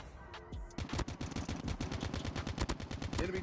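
Rapid automatic gunfire from Call of Duty Mobile, a fast, even burst of sharp shots lasting a few seconds, loud and close, following a brief softer lead-in.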